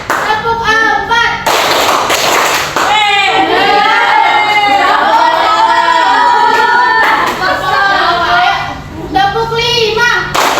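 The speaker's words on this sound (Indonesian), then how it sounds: "Tepuk satu, tepuk dua, tepuk tiga, tepuk empat." A fifth-grade elementary class claps in counted rhythm groups, sharp bursts of hand claps alternating with children's voices and a teacher's chanting, loud and close in a classroom.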